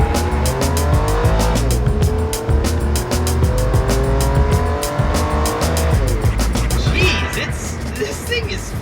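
A Ferrari 456 GTA V12 accelerates hard, its engine a loud, continuous roar that climbs through the revs with brief dips at gear changes. It sounds close and sustained, with tire noise mixed in.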